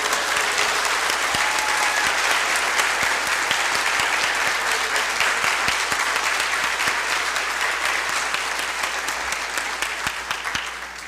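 A large audience applauds steadily at a university presidential inauguration, a dense, even roar of clapping that holds throughout and tapers only slightly at the close.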